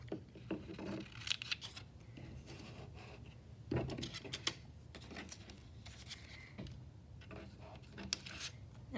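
Scissors trimming paper into a curved half-moon shape for a pop-up fish craft, a quiet close series of irregular snips and paper rustles.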